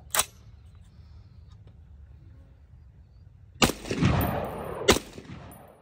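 A suppressed Sabre AR-10 rifle with a 16-inch barrel and Surefire suppressor fires .308 150 grain ball ammunition, giving three sharp, loud reports: one early shot, then two more about a second apart after a quiet pause.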